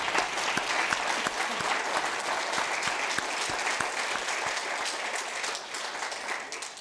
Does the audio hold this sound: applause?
yes